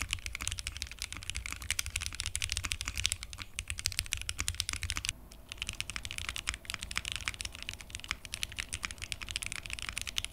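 Typing on a Ginkgo65 mechanical keyboard fitted with case foam: a fast, steady stream of close, crisp keystrokes throughout, with a brief lighter pause midway and no talking.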